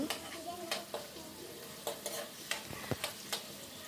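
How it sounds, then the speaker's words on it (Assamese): Onions frying in already hot oil in a small room kitchen, a steady soft sizzle broken by frequent clinks and scrapes of a spoon stirring against the pan. "তেলখিনি অলৰেডি গৰম হৈ আছে এণ্ড পিঁয়াজখিনি দি লৈছে"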